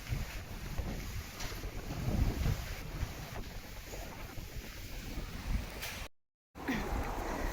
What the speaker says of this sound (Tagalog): Grabe naman napakahangin ngayon.